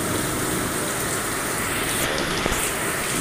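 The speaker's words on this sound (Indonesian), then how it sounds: "Ya, hujannya semakin lebat." Heavy rain pours down steadily and loudly in a dense, even hiss from start to finish, with no talking.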